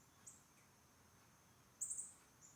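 Faint, short bird chirps heard from outside a bedroom window, a brief call early on and a small burst of two or three quick notes later, against quiet background hiss.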